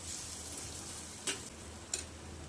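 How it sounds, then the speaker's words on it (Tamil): Chopped onions sauté in a pan for a mussels dish, making a faint, even sizzling hiss. Two short sharp clicks from a spatula stand out briefly. "வெட்டி வச்ச வெங்காயத்தை சேர்த்து நல்லா வதக்கி விட்டுறலாம்."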